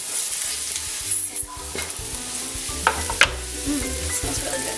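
Vegetables frying in a pan for a vegan Thanksgiving dish, a steady close sizzle with stirring scrapes and a couple of sharper clatters, no talking.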